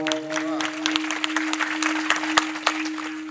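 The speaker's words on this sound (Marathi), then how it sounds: "जोरात टाळी वाजा बरं जरा जोरात" An audience at a comic kirtan performance claps in a fairly loud, irregular burst of many hands, with a steady tonal hum running beneath it and no clear talk.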